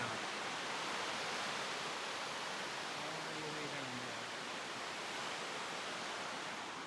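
Massive waterfall roaring on the Mt Baker Coleman Deming climbing route, a dense, steady broadband rush that fills the whole stretch with no letup, with faint voices briefly surfacing beneath the torrent.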